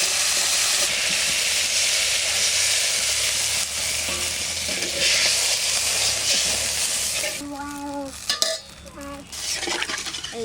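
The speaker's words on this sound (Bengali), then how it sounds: "এবার মশলাটা ভালো করে কষাই।" Bengali home cooking: a spice paste of cumin seeds, ground masala, turmeric and salt frying and being stirred in a pan, with a steady broadband sizzle through most of the clip and some clinks of a utensil near the end.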